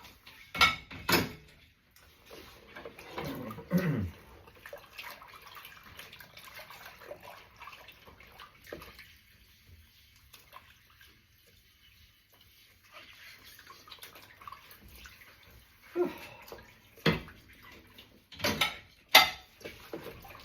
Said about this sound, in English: Last plate, and then I've got a couple of dishes,